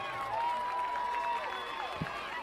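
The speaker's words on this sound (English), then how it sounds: "Let's give him a big round of applause." A high school football crowd at Clay-Chalkville vs Oxford applauds and cheers as an injured player is helped off the field, a steady wash of distant clapping and crowd noise with a thin tonal whine running through it.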